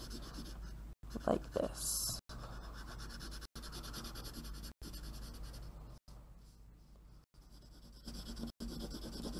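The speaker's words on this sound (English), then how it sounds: "I'm using the side of my pencil to create that darker shade" The side of a pencil rubs back and forth on paper to shade a building darker, a soft, close, steady scratching broken by short pauses while a person speaks quietly.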